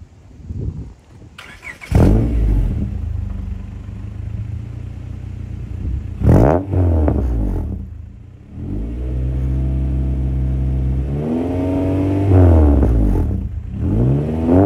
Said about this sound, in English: So I'll fire it up. Again, it's a T334 headers, full epoxy exhaust with a Vibrant Performance muffler